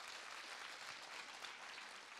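Cinema audience at a film presentation claps briefly in answer to a question, a faint, steady patter of many hands heard from a distance.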